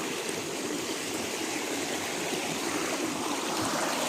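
A forest creek flows steadily, a continuous broadband rush of running water with no voices, even and moderately close throughout.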